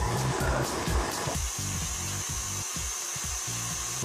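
An electric stand mixer runs on high speed, whipping cake batter until fluffy, giving a steady close motor whir with a rhythmic churning texture underneath that holds throughout.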